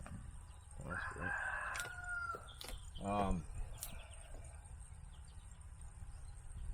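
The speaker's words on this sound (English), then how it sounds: "Yeah, I hear you, rooster." A rooster crows once at mid-distance, a rising then falling call lasting about a second, with a second shorter crow-like cry following, heard over outdoor background noise at an emergency shelter build site.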